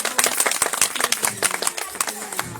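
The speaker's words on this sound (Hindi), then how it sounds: "तो एक बार जोरदार तालियां इनके लिए।" Scattered clapping breaks out at a Republic Day dance event, with sharp, uneven hand claps from a small crowd, fairly close and irregular in rhythm.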